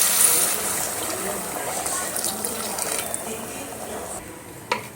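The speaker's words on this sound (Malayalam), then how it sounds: "നല്ല തിളച്ച വെള്ളം അതിലേക്ക് ഒഴിച്ചു കൊടുക്കാം" Boiling water poured into a pot of meat rice porridge (kanji), a steady rushing liquid wash that runs close and fairly loud for most of the stretch, fading near the end with a brief clink.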